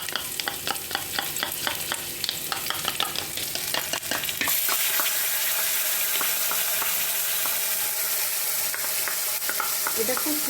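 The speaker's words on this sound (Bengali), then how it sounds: "কাঁচা লঙ্কাটা ভাজা হোক।" Green chillies fry in hot oil in a pan with a steady crackling sizzle, stirred in quick rhythmic scrapes at first, then a smoother, louder continuous hiss, with no voices.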